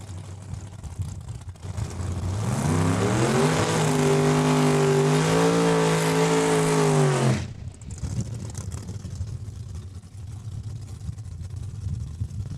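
A 1969 Camaro race car at Saskatchewan International Raceway roars past, its engine note rising as it accelerates hard and loud for several seconds before cutting away, leaving a lower background rumble.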